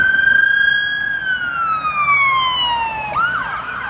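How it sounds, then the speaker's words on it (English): An ambulance siren wails near a Las Vegas street, a loud sweeping tone that slowly falls in pitch before jumping back up, with no talking over it. "We got a ambulance out here."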